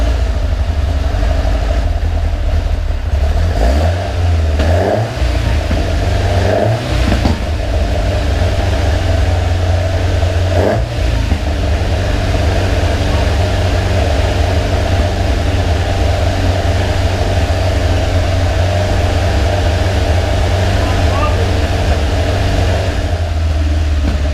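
A Caterham Seven engine runs steadily at a low idle of about 1,500 RPM, loud and continuous, with a few brief rev blips early on and no talk.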